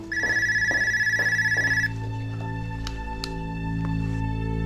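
A telephone in a dubbed TV drama rings in a steady repeating electronic trill for about two seconds, then stops, leaving a low background hum.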